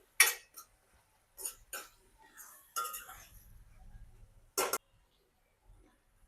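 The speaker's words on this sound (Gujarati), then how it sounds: "હવે આ બધાને મિક્સ કરી દઈશું." A spoon stirs salt, turmeric, red chili and coriander-cumin powder into onion and tomato in a cooking pan, giving several short, separate metallic scrapes and clinks close by, with quiet gaps between.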